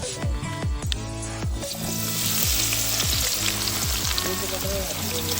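Onions hit hot oil in a village kitchen pot, a loud dense crackling sizzle that stays close and constant, with scattered stirring knocks early on and no talk.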